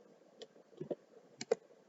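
Sparse clicks of a computer keyboard as a short command is typed into a terminal, a few isolated keystrokes with a couple of louder taps near the end, quiet and close with no talk.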